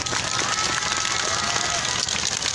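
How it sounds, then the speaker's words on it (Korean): Rally crowd at a Wednesday street demonstration clapping, a dense, sustained burst of applause mixed with a few cheers, loud and close throughout. "박수 한번 다시 주시겠어요?"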